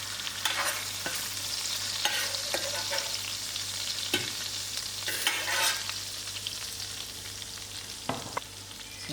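Prawns sizzle in a pan with a constant crackling hiss, broken by several louder stirring scrapes and bursts of spatter, all close by with no voices.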